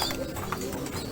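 Satinette pigeons in a loft give soft, low cooing against a busy background of rustling and faint murmuring.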